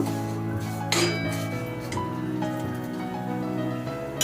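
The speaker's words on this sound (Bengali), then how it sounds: "সিমুইটা দিয়ে এটা আমি একটু নাড়াচাড়া করে নেব" Vermicelli (simui) fries in a pan as it is stirred, with a crackling sizzle under sharp metallic clinks of the spoon against the pan, close and fairly loud.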